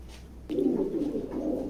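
Checker pigeons in a pigeon loft give a low, soft cooing that starts abruptly and continues briefly, close and alone.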